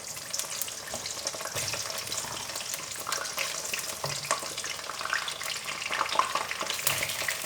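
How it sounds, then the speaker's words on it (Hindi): Eggplant frying in very hot ghee: a dense, continuous crackling sizzle with scattered spatters and light clinks of stirring, close and even throughout, with no voices. "गरम गरम घी में बैंगन डालें"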